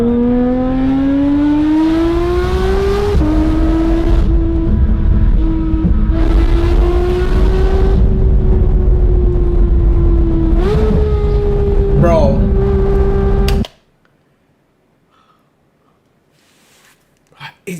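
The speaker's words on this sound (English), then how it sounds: "drive my car through the canyons a little to show off the exhaust" A Porsche 911 GT3 RS drives through canyon roads, its loud exhaust droning and climbing in pitch through several gear changes. The sound is close and continuous, then cuts off abruptly into near silence.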